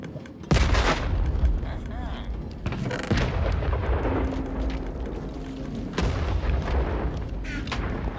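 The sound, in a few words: cannons firing at a hostile, Minecraft video game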